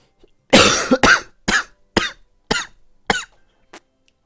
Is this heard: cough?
yes